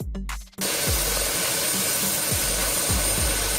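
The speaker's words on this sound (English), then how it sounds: "Police helicopter." Police helicopter flying nearby, a loud steady turbine roar with a broad hiss and regular low rotor thumps, entering abruptly after a brief quiet moment and holding on strongly.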